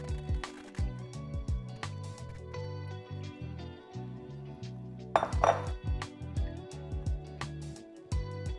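Metal spoon stirring chopped tomatoes in a cooking pot, repeated scraping clinks and knocks against the pot in an uneven rhythm, close and fairly quiet, with a brief louder clatter midway.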